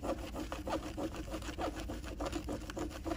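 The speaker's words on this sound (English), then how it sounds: "I'm roughing up these raw edges using my fingernails." Raw chenille fabric edges roughed up by fingernails, a quick series of soft, close scratchy rubbing strokes in an even rhythm, fairly quiet.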